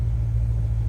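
A 2009 Chevrolet Corvette Z06 coupe engine idles with a steady, loud low rumble, close by and alone without talk.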